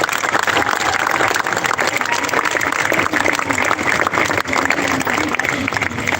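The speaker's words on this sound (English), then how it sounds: "let's give them all a big round of applause" A large crowd at a high school graduation ceremony applauds honors students, with dense, steady clapping that stays loud and continuous throughout, mixed with faint cheering voices.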